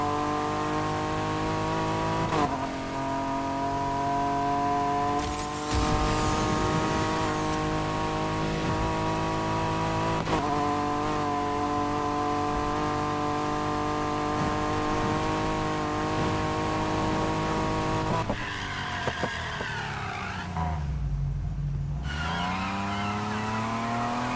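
A V6 car engine revs loudly and steadily with strong harmonic drone, rising and falling in pitch, with a sharp dip and recovery near the end; no talking.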